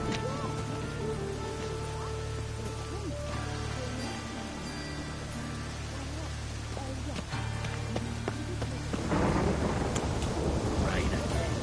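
Steady rain pours with deep rolling thunder in The Witcher 3 video game, the downpour growing heavier and harsher near the end.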